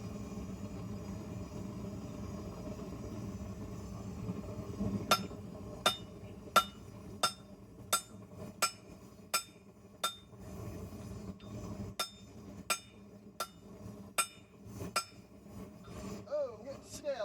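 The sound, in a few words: hammering a forge weld on hot metal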